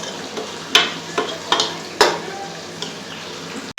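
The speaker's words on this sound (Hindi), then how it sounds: "तकरीबन 4 टेबल स्पून इसमें घी के ऐड करेंगे और इसको अच्छे से भूनेंगे।" Bitter gourd fries in ghee with a soft steady sizzle, broken by several sharp scraping clacks of a spoon stirring in the pan at uneven intervals.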